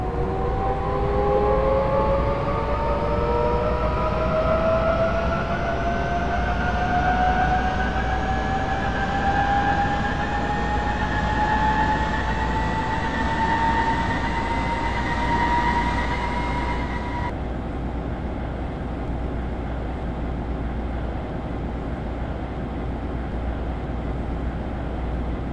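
A Seoul subway train pulls away after departure, its electric motor whine climbing steadily in pitch over a constant rolling rumble of wheels and carriage, until the tonal whine drops out and only the even running noise continues.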